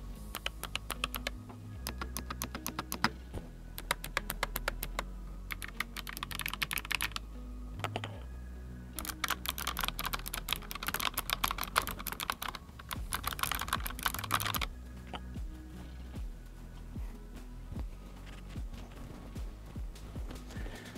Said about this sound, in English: go ahead and do a sound test of this keyboard, because like I said, these are the blue clicky switches